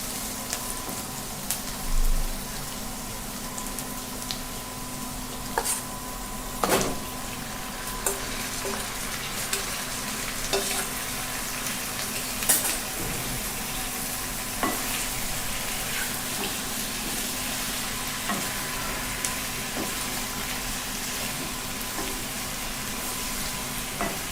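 Chicken sizzles steadily in hot oil with ginger and garlic for biryani, a dense continuous hiss broken by occasional sharp pops and utensil clicks, with no voices.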